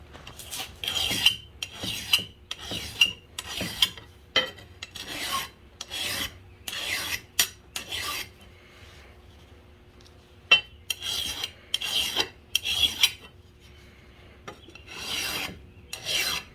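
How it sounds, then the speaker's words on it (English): Hand file rasping burrs off the edge of a freshly sharpened lawn mower blade from a Simplicity Courier mower, a close series of short, rhythmic strokes with brief pauses between bursts. "So you'll take a little hand file and file off."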